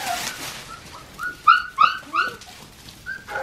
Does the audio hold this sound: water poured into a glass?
no